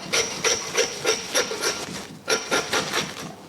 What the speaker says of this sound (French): Ensuite avec la scie, donc le travail de la scie va être important.